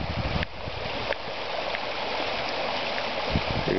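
Fast water rushes over bedrock in a stream in Georgetown, Ohio, a steady, dense roar close by with no talking.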